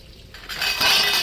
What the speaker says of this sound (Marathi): आता निघाली भांडी घासायला.